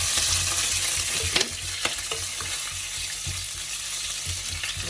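Curry leaves sautéing in a pan for a Jaffna-style spicy mutton curry: a dense, continuous sizzle and crackle with repeated scraping stirs of a spoon, close and fairly loud throughout.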